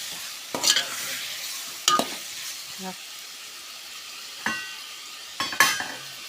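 Vegetable curry is stirred in a frying pan, with a few scraping, clattering strokes at irregular intervals over a low steady sizzle, close by.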